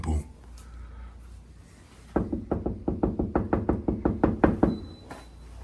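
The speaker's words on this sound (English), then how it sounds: "I think I'm knocking very nicely." A fist knocks on a door in a steady series of about fourteen firm, even raps, loud and close, after a few seconds of quiet room tone.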